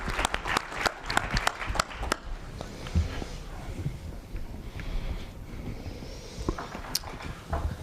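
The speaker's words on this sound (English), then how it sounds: "Dr. Michael Bonin, another round of applause." Audience applause after a talk on treating alienated children in Toronto, starting as distinct nearby claps that thin out within a couple of seconds, leaving a quiet room with scattered stray claps.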